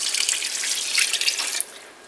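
Water pours in a steady, splashing stream into a slow cooker for beef ramen, then cuts off abruptly near the end, leaving a quieter trickle.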